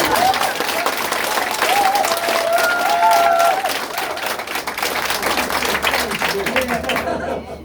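A crowd at a district candidate's campaign launch event in Daedeok-gu claps loudly and continuously, with scattered voices and cheers mixed into the applause until it fades at the end.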